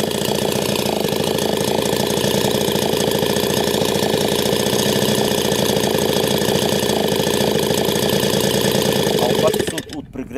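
A converted 53cc Chinese chainsaw engine driving a propeller runs at full throttle. It makes a loud, close, unbroken buzzing roar that cuts off abruptly just before the end.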